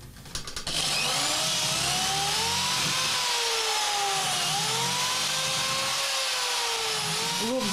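Power jigsaw cutting, a loud continuous buzzing whine with its pitch wavering as the blade works through the material, close and alone after a brief start.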